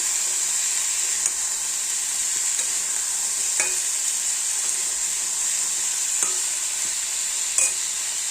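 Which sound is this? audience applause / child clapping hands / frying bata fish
frying bata fish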